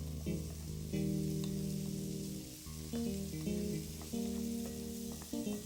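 Pineapple and raisins sizzle steadily in a frying pan, with soft scraping and clinks of stirring scattered through a continuous, fairly quiet fry.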